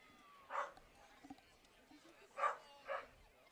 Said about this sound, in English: There's a dog in the park that's seemingly having an unpleasant time. Making some noise back there.